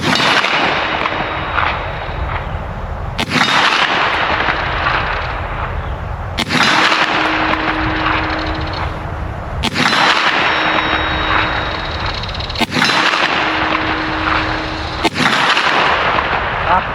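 Five loud, sharp shots from a 9mm Kel-Tec Sub2000 Gen 3 carbine ring out outdoors at a range, spaced roughly three seconds apart, each with a brief echoing tail.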